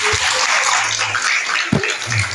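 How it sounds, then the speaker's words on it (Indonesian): Steady applause from a gathering at a village religious assembly marking Isra Mi'raj, a dense, continuous wash of clapping with a low hum and a brief deeper voice-like sound breaking through. "Tepuk tangan untuk beliau."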